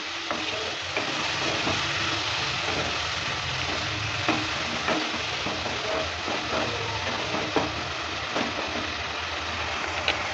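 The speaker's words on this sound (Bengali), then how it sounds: "জলটা দেওয়ার পর ভালো করে আবারও নেড়ে চেড়ে নিচ্ছি।" Spices for a prawn and taro dish fry and get stirred in a pan after a splash of water, giving a steady close sizzle with scraping stirring strokes throughout.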